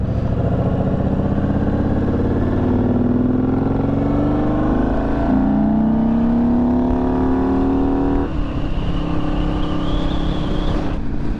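An Indian Scout motorcycle rides through traffic, its engine droning steadily throughout, with rising rev tones as it accelerates through gears and a higher whine near the end; loud and close, no talking.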